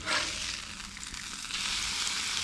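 Sablefish fillet frying in hot ghee in a pan, a steady close sizzle and crackle with no pauses.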